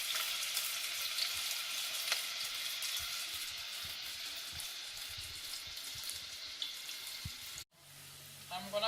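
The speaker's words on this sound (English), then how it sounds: "once your garlic fry like that, go ahead, add your onion" Garlic and onion fry in a pan with a steady, close crackling sizzle and occasional soft stirring taps, then a sudden cut to a quieter low hum.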